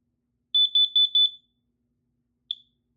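A combined smoke and carbon monoxide alarm gives a quick run of six sharp, high electronic beeps, then one lone beep after a short silence, loud and close in a quiet room.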